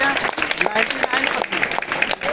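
Applause at a school gathering honouring a former student's top Class 10 exam result, steady dense clapping from an audience for a couple of seconds, with possible voices mixed into the crowd.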